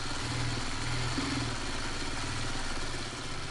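A home sewing machine runs in short bursts, stitching quilt block pieces together for a traditional four-patch block, with a close, steady mechanical hum and rattle and no talking.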